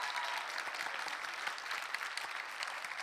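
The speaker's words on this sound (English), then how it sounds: "Give me some applause." An audience at a live talk on visual development in VR gives continuous applause, a dense wash of many hands clapping that sounds fairly distant and soft throughout.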